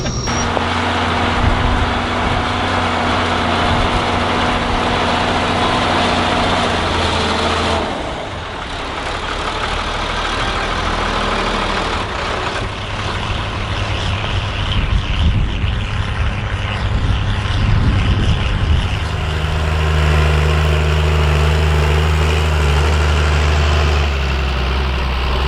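A blue John Deere 3640 tractor ploughing a field, with its engine droning loudly and continuously under load, a steady low rumble that eases briefly and then picks up again toward the end.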